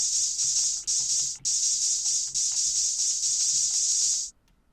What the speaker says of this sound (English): Let's spray the blue badger for traces of blood.